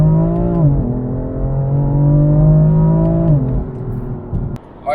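Inline-six exhaust note of a BMW M4 Competition F82 coupe, a steady loud engine drone that rises in pitch, holds, then drops and fades toward the end, with no one talking.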